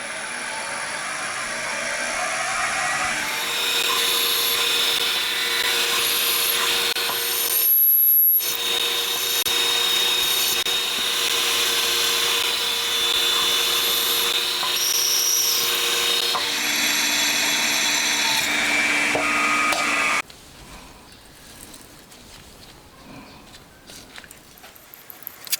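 A drill bores holes in a Honda Monkey engine part being converted to a 124.4cc four-cylinder, a loud continuous whine and grind running steadily with one brief pause, then stopping into quieter handling noise near the end.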